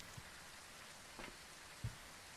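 Rain falls in the horror game Phasmophobia as a very quiet, steady hiss of drops on surfaces, with a few soft thuds breaking through the faint background.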